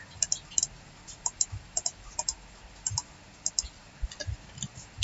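Keys on a computer keyboard are tapped in quick clicks during a CAD modify command, with irregular pairs and runs of light taps close by in a quiet room.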